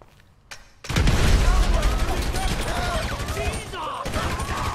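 Grenade blast in Grand Theft Auto 5 on PS4: after a brief quiet moment, a sudden loud boom rolls into a long, rumbling roar of debris and gunfire, with voices talking over it.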